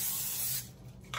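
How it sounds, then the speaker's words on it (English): A can of cooking spray hisses onto a sheet of parchment paper in one steady burst of about half a second, then a short second puff follows. "And I'm going to spray it a little bit."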